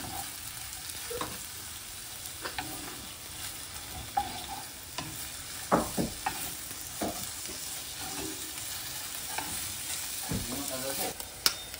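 Potatoes frying in a pan with a steady, close sizzle and scattered clinks and scrapes of stirring throughout.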